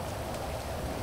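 In GTA V, rain falls steadily on surfaces as a dense, even hiss of drops with a low patter underneath, continuous and fairly loud, with no voices.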